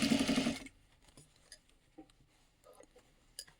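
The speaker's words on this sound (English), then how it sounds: "now we're just gonna sew the Rigelin back, like close to the new seam" A sewing machine stitches a dress waist seam with rigilene boning in a short, fast run at the start, then stops, leaving quiet handling clicks.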